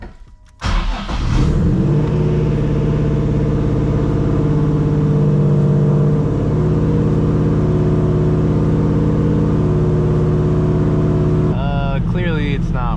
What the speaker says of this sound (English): Let me just turn the car fully on.